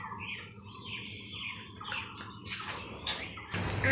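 Birds chirp and tweet in the early morning after rain, high repeated calls close by over a steady insect-like buzz in a quiet garden, with no talking.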